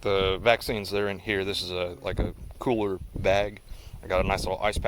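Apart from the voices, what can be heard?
No everyday noises stand out.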